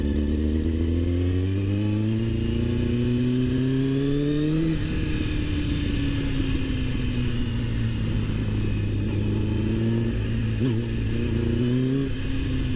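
Motorcycle engine rumbling near and steady, revving up through rising pitch sweeps and shifting into gear around the middle, then pulling and easing off again, with no voices.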